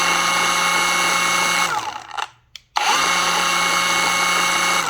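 SPTA cordless gear-driven orbital polisher running on speed 1 gives a loud, steady high-pitched whine close by, winds down and stops briefly partway through, then starts up again at full pitch.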